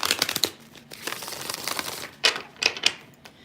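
Tarot cards get one more shuffle by hand, giving close, quiet bursts of crisp clicking and riffling with short gaps between them.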